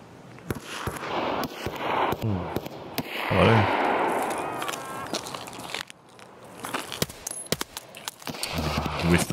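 Gunshots ring out around the gas station in Escape from Tarkov, a scatter of sharp cracks and thumps, some close and some more distant, mixed with shuffling movement and rustling.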